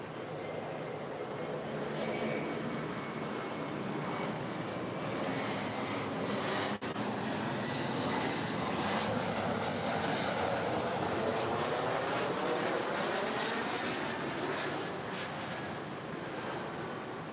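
A jet airliner takes off from runway 24 Left at Los Angeles International Airport with a loud, sustained roar that swells and then holds steady.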